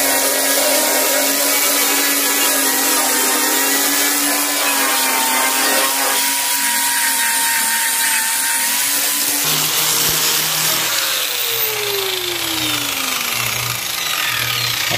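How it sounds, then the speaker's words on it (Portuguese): A loud, steady electric sander whine grinds on without pause, shifting pitch midway as it sands down filler on a car body close by. "Agora eu vou pegar a lixadeira."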